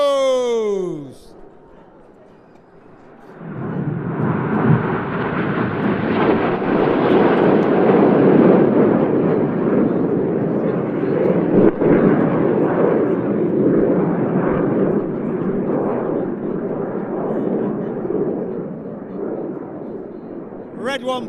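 Royal Air Force Red Arrows aerobatic jets at the Jersey International Air Display roar past in a long, broad jet rumble that swells loud and holds, fading slightly toward the end, heard outdoors at an air show.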